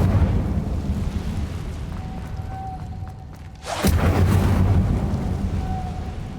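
An Incendio fire spell in Hogwarts Legacy, a sudden whooshing burst of flame that erupts midway over a low ambient rumble and settles into a sustained roaring crackle.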